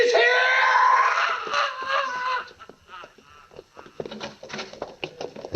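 A loud, sustained scream of a cry for help from a radio drama, holding for about two seconds before breaking into fainter voices and commotion on a quiet lane.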